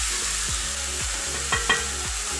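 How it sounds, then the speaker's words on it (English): Onion sizzling in a pan with cumin seeds for veg pulao, a steady close frying hiss with rhythmic scraping stirs about twice a second. "I will fry my onion on a low heat just until it's transparent"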